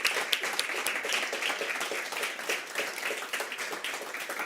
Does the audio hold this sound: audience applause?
yes